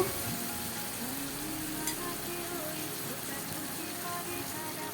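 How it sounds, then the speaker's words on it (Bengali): Turmeric, chilli powder and coriander powder frying in oil in a pan for a Bengali prawn, potato and pointed gourd dish, giving a steady close sizzle that runs throughout with a brief scrape partway. "এবার খুব ভালো করে ভাজা ভাজা করে নেব"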